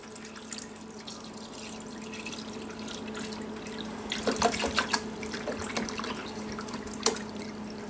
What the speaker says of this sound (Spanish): vamos a añadir, ya sabéis, agua potable, hasta la marca